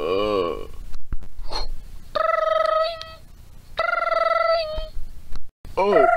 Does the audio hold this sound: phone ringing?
yes